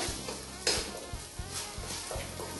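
Onion and ginger garlic paste are stirred in a pan over a low flame, giving a soft sizzle under a spoon that knocks against the pan several times at irregular intervals.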